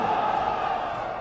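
Crowd at a combat sports fight night in Indonesia roars for the new champion, a dense, steady wall of cheering and shouting that fills the whole moment.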